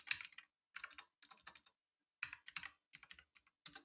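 Someone types a command on a computer keyboard: quiet, close clusters of key clicks in short irregular bursts separated by brief pauses.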